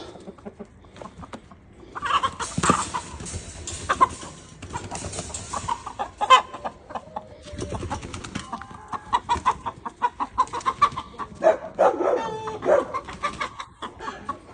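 A rooster calls to hens with clucking fowl sounds nearby, the calls rising and falling in irregular bursts, while a dog barks at times in the background.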